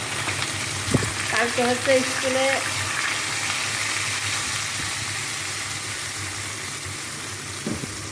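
Fried fish sizzles steadily in a pan after a splash of water is added, with a constant hiss throughout and a person speaking briefly early on.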